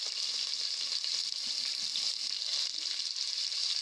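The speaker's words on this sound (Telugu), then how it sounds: "ఇప్పుడైతే ఆనియన్స్ అయితే గోల్డెన్ బ్రౌన్ కలర్ వచ్చే వరకు వేయించుకుందాం." Chopped onions fry in hot oil with whole garam masala for chicken biryani. A continuous, even sizzle crackles close up with no voices.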